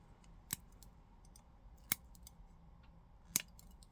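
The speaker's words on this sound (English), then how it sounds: "we're going to take our cutters and we're going to cut these tabs off" Cutters snipping plastic mounting tabs off a headlight area during a 2019 Ford F-350 single cab dually build: three sharp, isolated snaps spaced about a second and a half apart in a quiet room.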